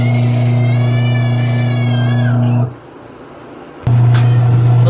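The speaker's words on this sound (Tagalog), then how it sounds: "malakas yung motor eh, oh. Ang lakas ng ikot ng motor." A Midea 9.5 kg automatic washing machine motor spins with a steady, loud tonal hum. It cuts out briefly and then starts again.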